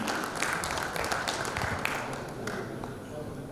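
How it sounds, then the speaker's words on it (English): An audience at a paints and coatings technology event claps, with dense, fairly quiet applause that thins out toward the end. "Round of applause everyone"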